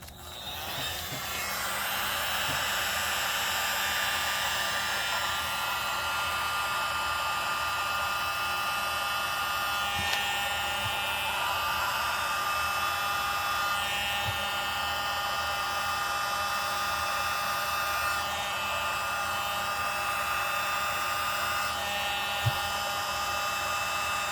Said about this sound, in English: Use that blower again, see what happens.